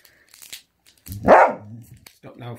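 A dog gives one loud close bark amid crinkling plastic sounds, with a person talking before and after it.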